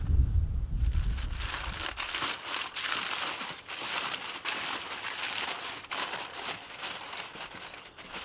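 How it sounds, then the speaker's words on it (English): Tin foil crumpled and crinkled by hand to wrap a beef broth care package for the barbecue, close and continuous crackling for several seconds without talk. "Now we just gotta wrap it up with good old tin foil"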